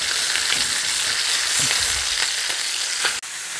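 Salmon fillets searing in plenty of hot oil in a pan make a loud, dense, continuous sizzle with faint crackles and a few soft shifting thumps, close up, ending in a brief abrupt dip, with no talking.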